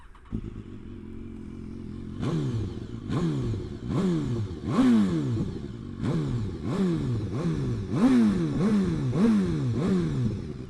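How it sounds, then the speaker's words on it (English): A BMW S1000R sport motorcycle's exhaust barks through repeated revs, about eight sharp throttle blips rising and falling in a steady rhythm over a rumbling idle. "Let's listen to the exhaust."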